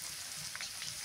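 Spice pastes fry in hot oil on a clay stove, a quiet, close, crackling sizzle with faint spattering pops.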